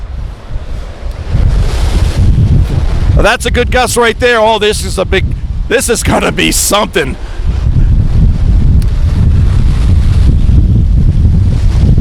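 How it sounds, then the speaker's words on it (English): Strong gust-front wind buffets the microphone with a loud, steady roar that carries blown dust, dipping briefly mid-clip while a person speaks over it, then surging again. "Another push of wind, dust all over the place."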